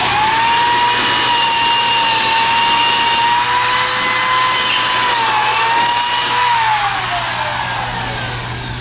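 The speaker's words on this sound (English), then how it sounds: "let the drill reach full speed, and then continue to add pressure as it goes all the way down" A loud, steady AGED 240 electric drill whine runs continuously for several seconds while drilling a hole, its pitch wavering slightly as pressure changes, close by.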